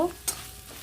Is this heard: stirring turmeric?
yes